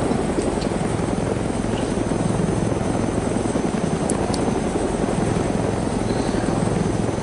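A helicopter's rotor in the video game DayZ drones steadily and loudly throughout, a constant thudding engine roar with no pauses.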